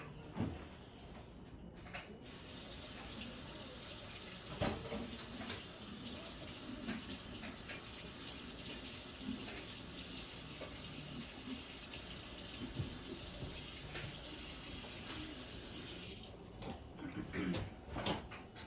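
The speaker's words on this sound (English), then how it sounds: "But all this string, we're just gonna rinse it off." Tap water runs steadily in a sink as sweet potato strings are rinsed off, a continuous close hiss with faint handling knocks, starting and stopping near the ends.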